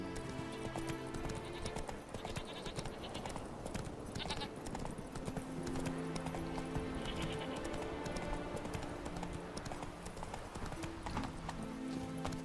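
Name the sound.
horse Roach galloping in Witcher 3 video game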